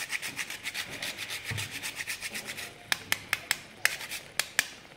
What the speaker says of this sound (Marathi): आणि वेलची पावडर आणि थोडंसं जायफळ किसून घेऊया.